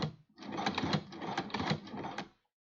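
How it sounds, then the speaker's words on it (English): A sewing machine reverse-stitches through a guitar strap in one quick, fairly quiet burst of rapid mechanical clatter lasting about two seconds, with no talk. "Reverse stitch at the back,"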